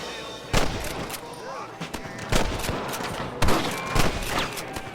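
Gunfire in Red Dead Redemption, a string of sharp, loud shots fired in bursts of two or three amid a busy firefight, with voices shouting over the background.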